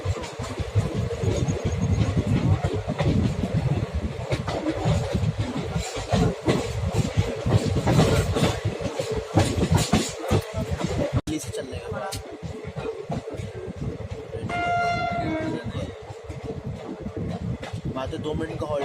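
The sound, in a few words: Chetak Express train 20473 running, Delhi to Ajmer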